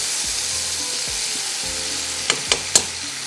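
Onions and garam masala frying in a pan give a steady, bright sizzle throughout, with a few soft low knocks early on and three sharp clinks of a utensil near the end.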